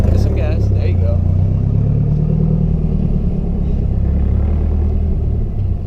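A Nissan S13 with a brand-new clutch and GKTECH upgrades gives a steady, loud, low engine rumble from close by, while people talk over it.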